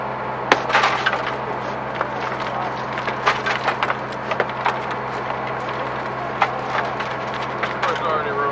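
Car window glass cracking and splintering as firefighters break it during vehicle extrication training, with several sharp impacts scattered over a steady engine or generator hum while people talk nearby.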